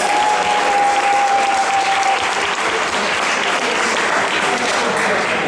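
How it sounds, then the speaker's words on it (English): Loud, sustained applause from a large audience at a convention bartending competition, steady clapping filling the whole stretch with a brief tonal whistle early on. "Big round of applause, please."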